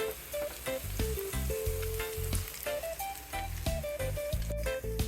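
Plantain fritters fry in a pan over low heat, a close, crackling sizzle with bursts of popping oil running steadily the whole time.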